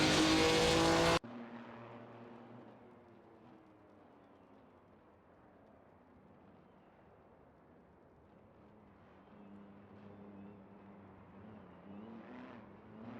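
Cars in a racing video game, including a Pontiac Firebird and a Mercedes-Benz, fight for position. After a brief loud burst, engines drone steadily with layered whining tones that swell and fade as the pack jostles at the back.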